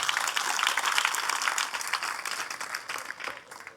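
Audience applause for donors at a Shivaji statue unveiling ceremony, a dense wash of many hands clapping loudly and steadily that thins slightly toward the end.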